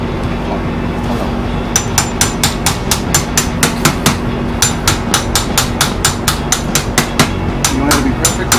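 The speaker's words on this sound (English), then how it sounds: "Hammer." A hammer strikes parts of a rebuilt starter from a 2003–08 Toyota Corolla 1.8L L4, delivering about twenty sharp, close metallic blows in a steady, rapid rhythm after a short pause, over a low background hum.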